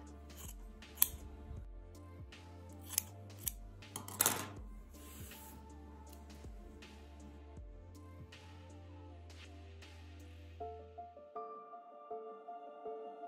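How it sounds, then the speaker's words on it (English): Scissors snip macrame earring strings several times in sharp, separate clicks, close by, over quiet background music that carries on after the cutting stops. "I'm gonna grab my sharp pair of scissors and I'm gonna trim this"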